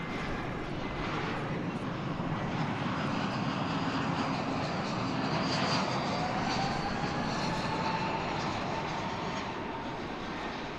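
A Frontier airliner takes off at DFW Airport, its engines producing a steady, broad roar that holds loud and even throughout, with a faint rising whine layered in.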